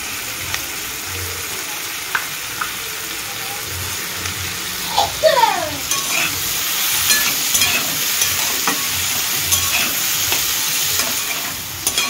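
Capsicum frying in a pan for an egg chilli dish, stirred throughout, with a steady close sizzle broken by scraping utensil strokes and a few brief clatters.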